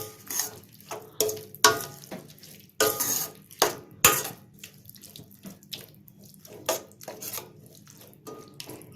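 A spoon stirs dried fish thokku with a little added water in a pan, giving irregular close scrapes, clinks and wet sloshing bursts.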